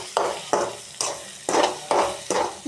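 Garam masala, coriander powder and chili powder sautéing in a pan, stirred with a spoon in regular scraping strokes, six or seven sizzling swishes about half a second apart, close and moderately loud with no talk.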